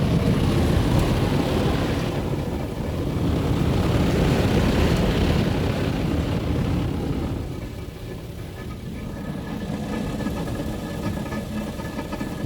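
Soft-touch car wash machinery with a tire scrubber runs steadily at the Mister Auto Wash in Tillsonburg, a continuous loud mechanical drone and whir that eases slightly partway through, with no talking.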